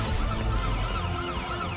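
Sirens wail in the police-themed shooter game Battlefield Hardline, loud rising and falling tones layered over a dense rumbling backdrop of noise, with no voices.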